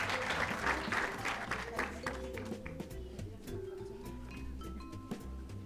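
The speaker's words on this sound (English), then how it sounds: "Let's give a round of applause to all these amazing community partners and members." A crowd applauds community partners and members at a school district Hispanic and Latin American Heritage celebration, clapping heaviest at the start and thinning under background music and voices.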